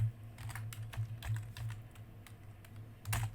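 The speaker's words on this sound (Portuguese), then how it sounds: "estou digitando tudo errado" Rapid typing on a computer keyboard, close and clear, with irregular bursts of key clicks and brief pauses between runs of keystrokes.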